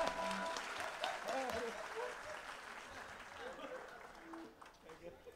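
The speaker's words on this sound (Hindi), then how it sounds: "जोरदार तालियां" Audience applause at a live musical tribute concert in Mumbai, fairly faint and fading, with music tones and a voice mixed in underneath.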